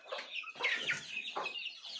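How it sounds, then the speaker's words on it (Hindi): Chickens on a poultry farm in India cluck in several short, close bursts, with irregular throaty calls overlapping one another and no talk. "ये देखो ये मुर्गा निकलने वाला है"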